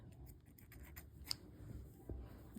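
Scissors snip through embroidery yarn at the back of a hand-stitched flower, a single quiet crisp cut in a calm room with faint ticking handling sounds around it.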